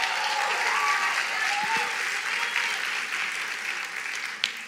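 A church congregation gives two girls a round of applause, a full, even spread of many hands clapping at steady volume that slowly eases off, with a few faint vocal sounds mixed in.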